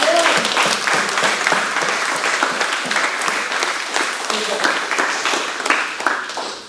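Seminar attendees clap during a martial arts belt promotion, a loud, close burst of applause that carries several seconds. It opens with a few distinct sharp claps, then fades slightly toward the end, with faint voices mixed in.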